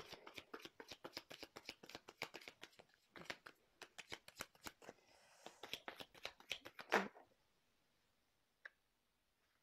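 Tarot cards being shuffled: a long run of quick, crisp flutters and clicks, a denser riffle near the end, then near silence broken by a single faint tick.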